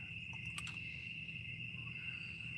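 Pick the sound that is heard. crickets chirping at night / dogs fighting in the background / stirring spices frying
crickets chirping at night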